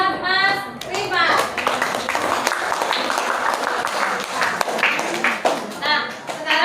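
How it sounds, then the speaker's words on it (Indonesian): Children in a classroom clap for a classmate, a lively burst of many small hands that fills the room at close range, with young voices calling out at the start and end. "Tepuk tangan buat Mas Rima"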